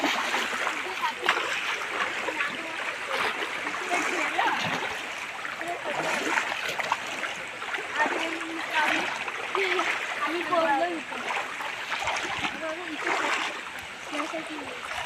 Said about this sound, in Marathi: चालताना पाणी वाहत आहे